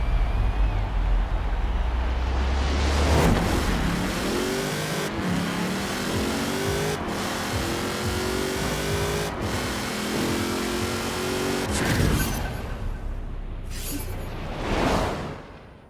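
A GMC Typhoon in Forza Horizon 4 accelerates hard, its engine rising through several gear changes with sharp shift breaks and whooshes, loud and close, then easing off near the end.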